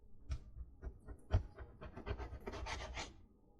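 A knife cuts beef fat into thin pieces with close rubbing, scraping strokes that come in uneven bursts, with no talk.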